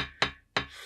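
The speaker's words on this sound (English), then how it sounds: "Apologies for the banging, but you know it's glass" Two sharp knocks sound close by on a glass surface during a painting session, about a third of a second apart, each fading briefly.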